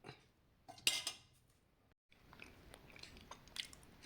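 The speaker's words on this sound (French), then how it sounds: "Là, je suis en train de déguster" Cutlery clinks faintly against a dish while cooked red beans are tasted, followed by soft chewing and small utensil taps in a quiet room.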